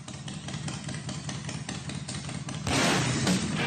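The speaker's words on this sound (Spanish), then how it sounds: "veamos el video en donde se van a concentrar más de 1000 motocicletas de custom y alto cilindraje" Custom high-displacement motorcycles gathering in Floridablanca, an engine idling with a low, pulsing rumble before a louder surge of revving or passing exhaust noise takes over near the end.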